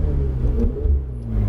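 A 650-horsepower Ferrari 488 GTB engine drones steadily on a race track, a close, sustained mid-pitched hum with slight surges of revving over a second and a half.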